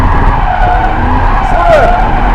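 Car tires skid and squeal through a drift over a loud engine, one sustained screech with a sharp rising sweep near the end.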